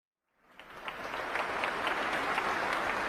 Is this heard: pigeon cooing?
no